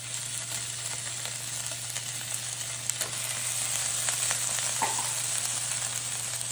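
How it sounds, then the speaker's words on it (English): Meatballs sizzle steadily in a pan over medium heat, a soft continuous frying hiss with scattered small pops and faint clicks, heard alone at close range over a low background hum. "We just want to get them into a pan over medium heat. We're going to get just a little bit of color on them."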